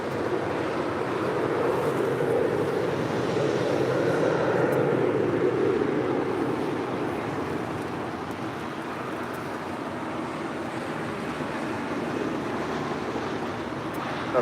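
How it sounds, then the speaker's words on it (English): Western Global MD-11 jet taking off on runway 25 right at LAX, a steady broad roar heard from a distance that holds level throughout, with wind buffeting mixed in. "we got the Western Global MD-11 taking off on 25 right at Foxtrot"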